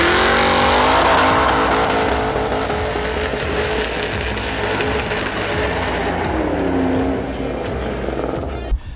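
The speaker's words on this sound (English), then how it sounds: "the only thing left to do now is the burnout" Ford Mustang GT500 doing a burnout, its engine roaring loud and steady with screeching tires for most of the stretch before the noise drops off near the end.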